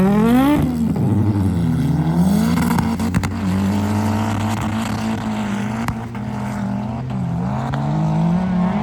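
An Audi TT 1.8 Turbo and an Audi S1 drag racing on a ski slope, engines roaring loudly and revving up and down with gear changes, a continuous close, powerful drone.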